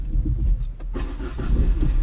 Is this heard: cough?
no